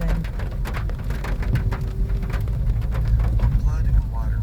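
Rain falls at a campsite in Bangkong Kahoy, Dolores, Quezon, a dense steady patter on surfaces throughout, with a voice talking faintly beneath it.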